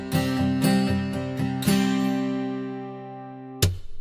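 A guitar plays a sequence of struck chords, several quick strums followed by a long ringing decay and one final strum, heard alone as one part of a guitar, piano and strings arrangement.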